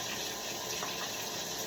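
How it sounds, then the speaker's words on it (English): Water runs steadily from a bathroom sink faucet, a smooth continuous rush heard close and alone throughout, as if rinsing a toothbrush under the stream. "Turn the faucet back on and rinse the toothbrush under the water."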